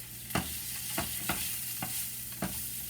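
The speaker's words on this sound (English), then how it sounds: "then I'm just going to stir that around a little bit" Asparagus seasoned with garlic and onion powder sizzles in a pan, with a steady frying hiss and about five distinct scraping strokes as it is stirred, close and fairly quiet.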